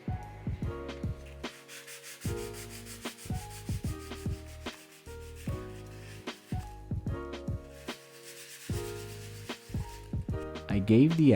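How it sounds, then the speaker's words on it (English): The edges of wooden desktop shelf pieces are hand sanded in a run of short, rhythmic rubbing strokes close to the mic, with music playing underneath. "I gave the edges a final sanding and coated all the pieces with a water-based varnish."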